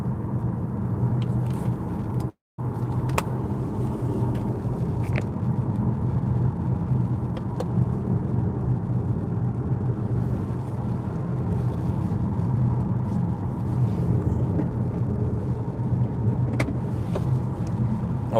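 A Ford Puma driving on a road, its engine a steady low rumble with road noise throughout, near and constant apart from a brief dropout, no talk.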